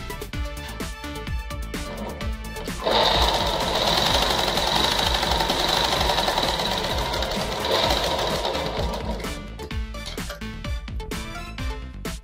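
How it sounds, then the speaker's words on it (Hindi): A sewing machine runs steadily as it stitches a gathered frill onto a petticoat. Its loud, continuous whirring stitch runs for several seconds between quieter clicks and fabric handling. "फिर इसमें आपको सिलाई फेर लेनी है"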